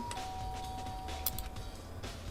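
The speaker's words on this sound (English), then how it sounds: "I pressed the doorbell." In the video game Danganronpa Trigger Happy Havoc, a doorbell sounds with a thin sustained ding over a low background of game music and ambience.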